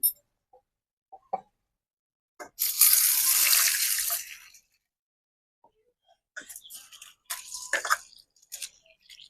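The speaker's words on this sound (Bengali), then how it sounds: "চলো ডালটাকে প্রথমে আমি একটু জল দিয়ে ধুয়ে নিই" Lentils for dal get rinsed in a pot: a two-second rush of pouring water, then a quieter stretch of sloshing and splashing as the grains are swished, with small clinks near the start.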